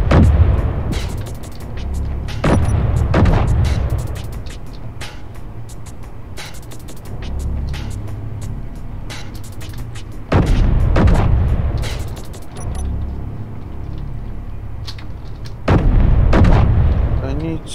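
Heavy guns and explosions from a Space Engineers fleet battle over Mars: repeated deep, loud booms roll out in bursts, with rumbling between them.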